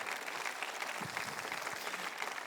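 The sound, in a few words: audience applause in church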